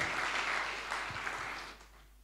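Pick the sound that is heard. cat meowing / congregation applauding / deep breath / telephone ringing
congregation applauding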